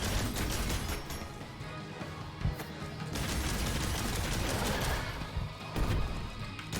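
Gunfire in the game Lair of the Clockwork God, a steady stream of rapid shots and crashing impacts with sharp louder bursts, fairly quiet and continuous throughout.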